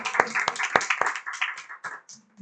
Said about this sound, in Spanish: Vamos a darle un aplauso al compañero del video.